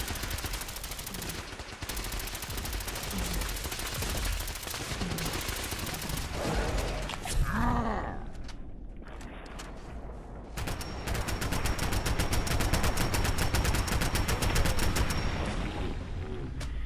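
Automatic gunfire in Fallout 4, long sustained bursts of rapid loud shots with a short lull midway before firing resumes hard and dense to the end.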